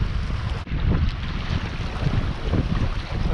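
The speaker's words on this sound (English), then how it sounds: "There's quite a bit of breeze out here today, with 15-18 knots." Strong wind roars over a small sailing dinghy out at sea in a 15-18 knot breeze, with steady buffeting gusts against the microphone and water rushing past the hull, continuous and loud throughout with no talking.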